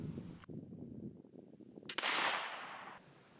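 A Stevens Long Tom 12 gauge muzzleloading shotgun fires a single loud, sharp blast outdoors, with a short decaying roar after it, following a stretch of low background noise.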